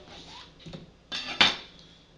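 A knife cuts an onion on a cutting board: a couple of soft taps, then two crisper slicing cuts close up, with no talking.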